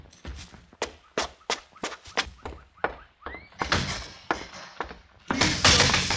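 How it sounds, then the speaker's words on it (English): A sequence of sharp wooden knocks and thuds, like a door being slammed and handled, comes up close and loud in an old radio drama, ending in a louder burst of rumbling noise. "Slam the door, Mr. Cooper."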